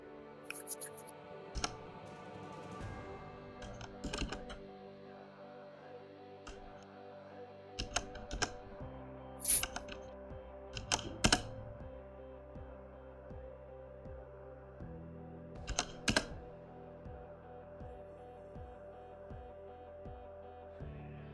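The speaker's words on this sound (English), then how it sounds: "I'm just typing up something here" Keys clatter on a computer keyboard during a game replay stream, scattered bursts of quick, light taps and a few sharper clicks over a steady soft background, no speech.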